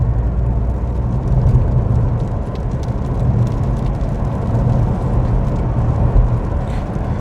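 A Toyota Avensis with the 2.2 D-4D diesel engine being driven, a steady low engine and road drone from inside the cabin, even and unbroken with no speech.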